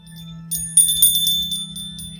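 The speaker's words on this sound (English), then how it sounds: "bells," Om bells ringing with high shimmering chimes that enter partway through and overlap in a light, sparkling cluster over a steady low hum.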